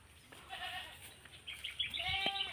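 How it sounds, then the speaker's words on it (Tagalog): A goat bleats near the end in a loud, close, wavering cry, preceded by faint bleats and rustling in the background on a rice-drying farm. "Anong sabi ng kambing"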